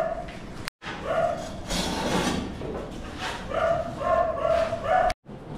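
A dog barks and yips repeatedly nearby, a few sharp barks in irregular bursts with whiny, strained tones between them, under some background noise.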